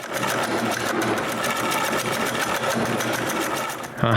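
A wooden bandsaw wheel is turned and cut on a workshop lathe, giving a loud, steady, rapidly pulsing mechanical drone that runs without a break until a brief clunk at the end, with no voices.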